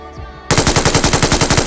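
An MG3 machine gun fires in the mobile game PUBG Mobile, a loud, rapid, evenly spaced burst of automatic shots that starts abruptly after a brief quieter moment and continues without pause.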